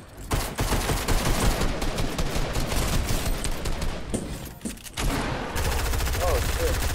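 Dense, continuous gunfire from a video game battle, rapid overlapping shots with bursts of automatic fire that pause briefly near the middle and then resume at full loudness, with voices talking over it.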